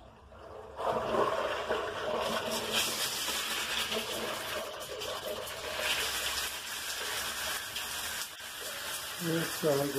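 Water rushes steadily into a Lorenzetti Acqua electronic shower head as it is filled before being wired, a loud, continuous hissing spray that runs almost unbroken for about ten seconds.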